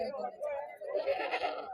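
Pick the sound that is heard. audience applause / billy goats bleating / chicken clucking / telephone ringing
billy goats bleating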